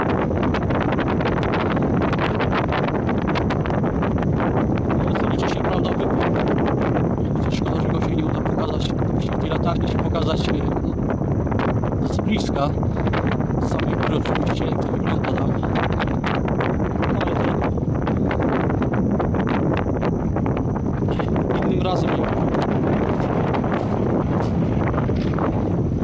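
Strong wind roars and buffets the microphone continuously in an open field by an old aviation beacon tower, a loud, rough rumble with voices faintly underneath.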